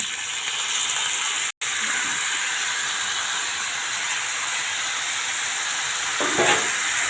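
Steady, dense sizzling of cod fish frying in hot oil outdoors, continuous and close, with a brief dropout partway and a soft clatter near the end.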